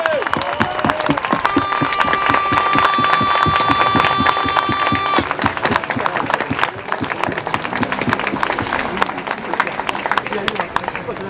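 Crowd at a political rally in Paris applauding and cheering the volunteers, with dense clapping, shouts and a loud, sustained stadium-like din, including a rhythmic stomping or chanting pulse and a sustained tone partway through.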